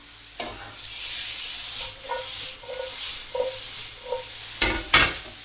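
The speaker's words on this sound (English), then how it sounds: "Make sure you're moving everything around, you don't want any burnt garlic." Garlic, spring onion and pak choi stir-fried in a pan for peanut butter noodles, with bursts of hissing sizzle and scraping stirs that rise and fall, louder crackling toward the end.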